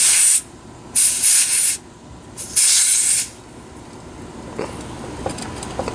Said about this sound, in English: you're going to unscrew the yellow line right here, because you want to let out any air that might be in there.